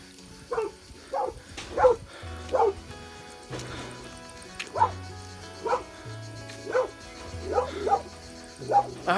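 Several dogs bark repeatedly in short, regular bursts, with some yips and whimpers, from a moderate distance beside a hiking trail on Corfu.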